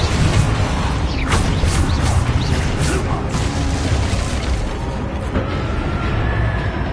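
The Confringo explosive spell cast in Hogwarts Legacy, a loud crackling blast and rumble over dense combat noise, with a few sharp impacts spread across the clip.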